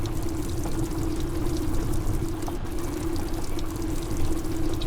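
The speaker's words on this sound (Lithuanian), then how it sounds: "Įsipilam kūrą." Fuel pouring into a car in the video game The Long Drive, a steady continuous gurgling stream with an even level throughout, close and alone with no talking.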